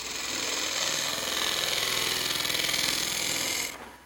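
Shear scraping on a wood burl turning on a lathe produces a continuous bright rasp over the machine's rhythmic drone, then stops abruptly as the tool lifts away near the end, with no talking.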